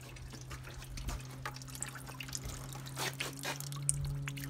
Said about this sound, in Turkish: Suyu saldık.